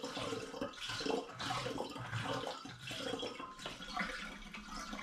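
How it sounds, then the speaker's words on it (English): Apple juice poured into a cranberry and pomegranate hard cider must, a steady liquid splash and gurgle that runs continuously at moderate loudness with no talking. "now I'm going to add my last litre of apple juice"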